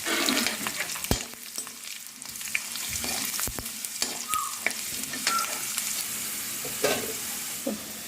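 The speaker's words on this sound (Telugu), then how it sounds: "ఒక పది పదిహేను వెల్లుల్లి రెబ్బలు పై పొట్టులు చేయాలి ఇందులో కొంచెం జీలకర్ర వేసి వేయించుకోవాలి" Ten to fifteen peeled garlic cloves and cumin seeds frying in hot oil, a bright continuous sizzle broken by repeated clanks and scrapes of a stirring spoon against the pan.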